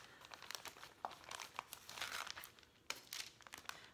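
A plastic freezer bag crinkles and rustles close up as cooked meatballs are moved from parchment paper into it, with quiet irregular crackles and no talking.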